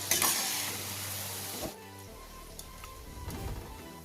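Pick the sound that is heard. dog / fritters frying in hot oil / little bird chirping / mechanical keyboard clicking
fritters frying in hot oil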